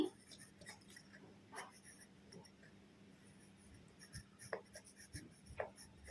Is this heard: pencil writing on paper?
yes